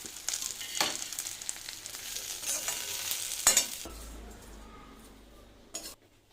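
Fried neem leaves are tossed into brinjal cooking in a pan: a steady sizzle runs under the scraping and clatter of a stirring spoon, with a couple of sharp metal knocks on the pan.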